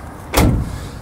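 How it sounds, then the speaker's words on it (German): A door on a 2021 Westfalia Amundsen 600 E camper van is pulled shut, a single dull thud standing alone at close range. "Ich mache mal die Tür kurz ran"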